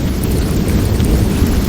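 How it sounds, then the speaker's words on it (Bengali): Heavy rain pounding outside a tent at night, a loud dense roar with deep rumbling thunder underneath, constant and close with no voices. "বাইরে ঝমঝম বৃষ্টির শব্দে ভেতরটা কাঁপিয়ে তুলছে"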